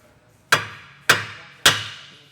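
Three sharp metallic hammer taps on a metal suspension part of a drift car build, evenly spaced, each ringing briefly before fading, close and loud with no talking.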